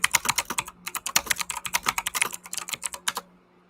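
Rapid typing on a computer keyboard, close and clear, with bursts of clicking keystrokes in an uneven rhythm and a short pause near the start, no voices.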